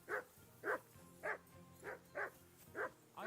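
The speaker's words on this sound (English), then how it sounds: "I assume you can hear that damn dog of yours barking." A dog in the medieval world of Kingdom Come Deliverance 2 barks seven times in a steady, evenly spaced rhythm, moderately distant, over a low background hum.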